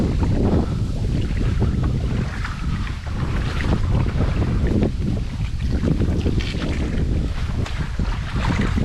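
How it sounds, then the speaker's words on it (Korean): Strong winter wind buffets the microphone beside a frozen stream, a constant loud roaring rush with gusty surges throughout and no talk. "바람은 뒤지게 불고"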